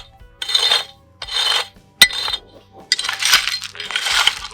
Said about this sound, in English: The ground's pretty hard here, so I'll just kind of scrape back, half an inch